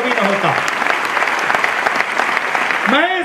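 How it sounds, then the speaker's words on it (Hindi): Loud applause from a large seminar audience, dense continuous clapping filling the room, with a voice speaking over it at the start and again at the end. "जोरदार ताली दोस्तों"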